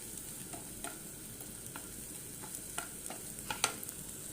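An egg fries in a pan for egg fried rice, giving a quiet, even sizzle with scattered faint pops and small ticks, close but low in level.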